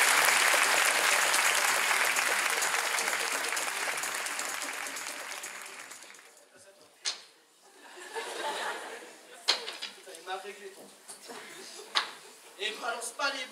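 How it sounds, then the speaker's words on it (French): An audience at a student show gives a contestant loud, sustained applause that fades after about six seconds into scattered laughter and chatter. "je vous demande de l'applaudir"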